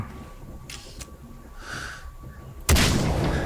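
In Far Cry 3 gameplay, quiet ambience and soft rustles give way to one sudden loud gunshot blast near the end, its heavy echoing roar lingering afterward.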